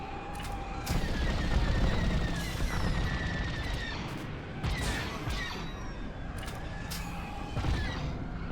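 Starfighter blaster fire in the Star Wars Squadrons video game, rapid repeated laser shots over a loud rumbling engine roar with whooshes and explosive bursts, dense and continuous.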